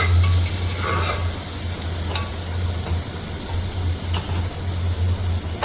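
Tomatoes and whole garlic cloves sizzle and crackle in a hot pan while a spoon stirs them, with steady frying hiss throughout and a few scraping clinks, no voices.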